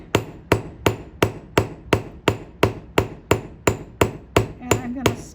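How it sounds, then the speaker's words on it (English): A cross peen hammer strikes hot metal at the forge in a fast, even rhythm, about a dozen loud, close ringing blows roughly half a second apart, with no talk. "I'm going to come back over with my cross peen on the other side"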